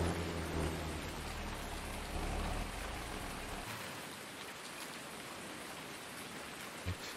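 Steady broadband rain in Farming Simulator 19 pours continuously, loud at first, then thinning as the low rumble drops away midway, with no speech.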